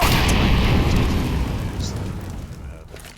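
An incendiary grenade ignites on Overpass in Counter-Strike, a loud whooshing burst of flame that roars broadly at first and then slowly fades over about three seconds, with a voice speaking over it.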